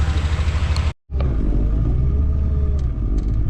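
A vehicle pulls up on a rural road in Gilt Edge, Tennessee, its engine rumbling loud and close throughout, with a brief cut to silence near the start before the steady drone resumes.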